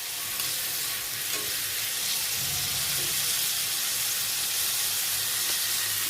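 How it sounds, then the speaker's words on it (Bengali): Frozen onion slices sizzle steadily in hot oil on a stove as vegetable curry starts, a constant close hiss that stays even throughout with faint clinks. "তরকারির জন্য চুলাতে দিয়ে দিচ্ছি তেল আর পেঁয়াজ"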